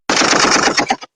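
A rapid burst of machine-gun fire from a sound effect, a loud dense rattle of many shots lasting about a second.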